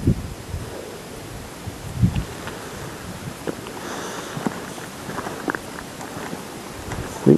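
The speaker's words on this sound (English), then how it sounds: "Wind's picking up again." Wind gusts through a garden in Hebburn, rustling leaves in uneven bursts close to the microphone, with buffeting rumbles and scattered crackling movement throughout.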